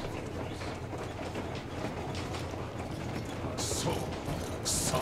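A train in the video game Metro Exodus rumbles along with low mechanical clatter and rattling, and bursts of hissing noise come near the end under faint background voices.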